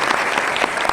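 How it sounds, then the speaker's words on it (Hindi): A burst of audience applause at a realtors' meeting in Udaipur, brief, dense and steady, with individual claps popping out of the wash. "इसके जोरदार तालियों के साथ इसका आगाज है"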